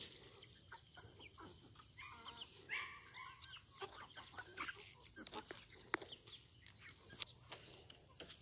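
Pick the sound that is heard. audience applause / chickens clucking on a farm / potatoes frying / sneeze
chickens clucking on a farm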